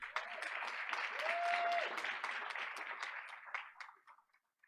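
Audience applause at a school board of education meeting, a steady round of clapping that swells slightly then thins out and stops, with a faint tonal ping partway through.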